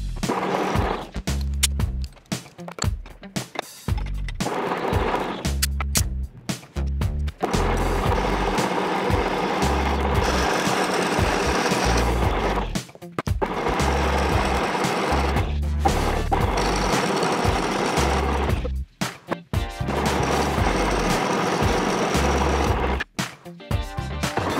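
A homemade go-kart belt grinder runs steadily and loudly, its motor and belt making a continuous broadband whir that cuts out briefly and restarts several times.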